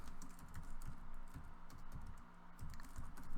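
Rapid, steady keystrokes on a computer keyboard as a cd command is typed during a command-line lesson, close and clear with no talking.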